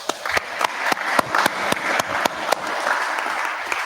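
Sparse applause at a full council meeting, a handful of members clapping in distinct sharp claps spread irregularly, moderately close, over a quiet room murmur.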